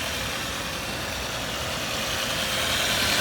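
A 1997 Volkswagen Passat B5 turbodiesel idles steadily close by, an even, unbroken engine rumble and hum with a bright hiss over it and no voices.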